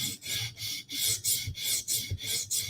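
A knife being sharpened on a factory setting, rhythmic rasping strokes repeating about every third of a second, close and steady, with no voices.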